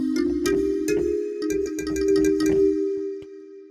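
Bright synthesizer plucks in a Jupiter-8 style, a repeating melodic pattern of short tonal notes over a sustained low tone, steady and close with no talking.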